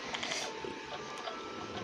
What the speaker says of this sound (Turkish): yanımda şu anda süpürge çalışıyor. O yüzden böyle bir ses var.